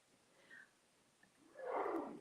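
A single man's sneeze, fairly faint and a little distant, bursting out near the end after a quiet stretch.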